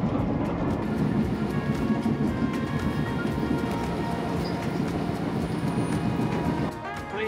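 Train running on its rails in Seoul, a steady rumbling, rattling ride with faint squeals overhead, heard close and continuous from inside the car, easing off near the end, with faint voices in the background.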